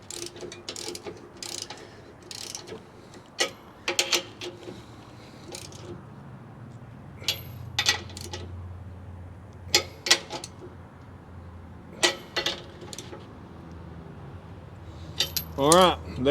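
Bolts on a trailer leaf spring being tightened, heard as intermittent metallic ratchet clicks and clinks of tools and parts, with quiet pauses between bursts.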